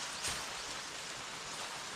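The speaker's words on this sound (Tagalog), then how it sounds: "Inabot ng ulan" Steady rain hisses evenly across the whole stretch, a dense wash of patter with no voices.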